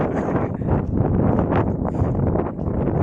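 Strong wind blowing across open rice paddies, a continuous loud broadband roar with gusty surges and mic buffeting throughout, no other sounds standing out.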